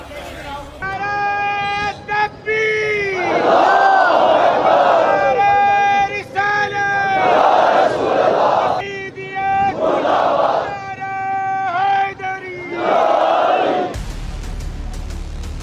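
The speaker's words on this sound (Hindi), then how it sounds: "अभी भी लोगों की भीड़ दूतावास के आसपास मौजूद है।" A large crowd of protesters shouts and chants near the US consulate in Karachi, loud massed voices rising in repeated waves of cries, cutting off abruptly near the end.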